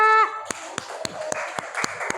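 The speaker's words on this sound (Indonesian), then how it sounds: "Tepuk tangan buat kelompok" Classroom applause for a student group: a slow, sparse run of single claps, about seven evenly spaced, following a brief spoken phrase, over a faint background murmur.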